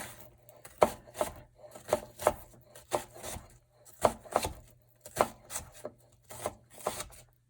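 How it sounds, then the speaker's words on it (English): Knife rhythmically chopping an onion on a cutting board, short crisp strikes arriving in quick clusters of two or three with brief pauses between, close and clear with no talk. "the fastest and easiest way of chopping an onion"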